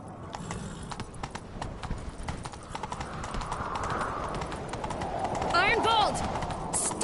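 Horses gallop during a video game chase, their hooves clip-clopping rapidly and growing louder and busier, mixed with other game sounds.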